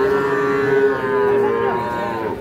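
A young Sahiwal bull calf, about three to four months old, lows at a busy livestock market, its drawn-out moo sounding close and steady over a low murmur of crowd noise.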